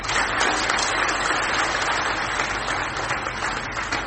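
An audience claps loudly during a spiritual discourse gathering, a thick continuous burst of applause holding steady for a few seconds with no speech above it.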